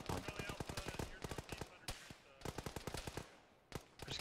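Rapid bursts of machine gun fire ring out in ArmA 3, loud, close and repeated in quick volleys with brief gaps, under occasional radio chatter.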